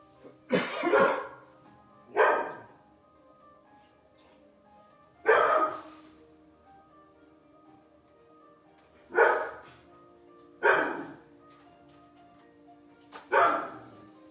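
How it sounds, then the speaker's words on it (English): A dog barks indoors in six sharp, separate bursts spread over about fourteen seconds, close and fairly loud, with quiet gaps between them and no talking. "I'm going to check on my dog."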